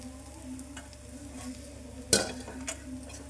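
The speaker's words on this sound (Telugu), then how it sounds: "మంచి కమ్మటి ఫ్లేవర్ వచ్చేంత వరకు ఇలా ఫ్రై చేసేసుకోండి" Spice mixture frying in oil in a kadai, a steady soft sizzle with a few sharp stirring scrapes and one clatter of the spoon against the pan.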